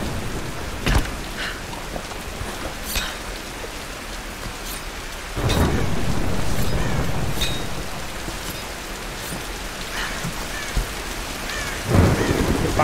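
Thunderstorm in the Tomb Raider video game: steady heavy rain with several loud thunder cracks and a long rumbling roll, no voices.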